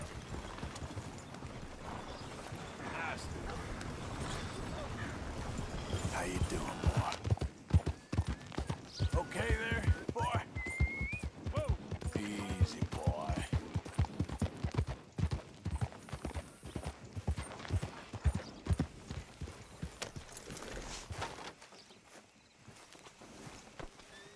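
Horse hooves clip-clop steadily in Red Dead Redemption 2, growing louder midway as the horse walks near, with ambient game sound beneath and a brief vocal sound in between.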